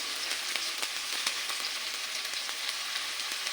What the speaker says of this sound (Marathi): आता कांदा आणि टोमॅटो परतलेला आहे